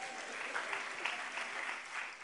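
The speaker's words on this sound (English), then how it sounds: "Clap your hands and give God praise" A church congregation claps together in a dense, steady burst of applause at a ministry summit, moderately loud and continuous, with a faint murmur of voices beneath.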